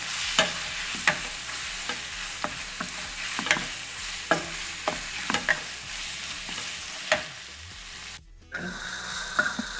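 Turmeric, salt and red chili powder being stirred in a pan for macaroni, with repeated scraping strokes over a steady sizzle, close and fairly quiet, then a brief pause near the end before the sizzle resumes.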